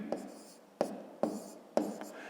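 Pen strokes writing out long division of 504 by 28 for a fifth-grade math exercise: four short, sharp scratches spaced unevenly, close and fairly quiet, with no talking.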